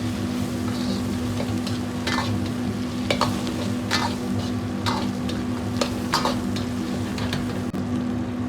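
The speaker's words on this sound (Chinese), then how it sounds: "煸炒至香料稍微发干，接着放入适量的郫县豆瓣酱，炒出颜色，炒出香味" Spices and Pixian chili bean paste stir-fried in a wok, with a steady close sizzle under repeated scraping strokes of a spatula every half second or so, continuous and fairly loud, no talk.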